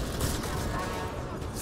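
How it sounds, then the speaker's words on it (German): Dense gunfire and explosion rumble during a firefight in the video game Mass Effect Andromeda, a continuous dull barrage of shots and booms at moderate level with no clear pauses. "Oh, verdammt, war das eine fette Explosion."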